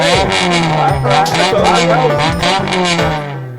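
A loud truck engine revs up and down close by, a deep rumbling drone with rising surges, holding steady before easing off at the end.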